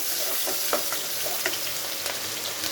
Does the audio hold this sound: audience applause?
no